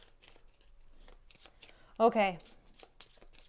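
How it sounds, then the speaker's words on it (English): A deck of cards gets a quick riffle shuffle during a tabletop campaign session of the board game Dawn of Peacemakers: one short, crisp flutter of cards up close, surrounded by people talking. "Let me shuffle those."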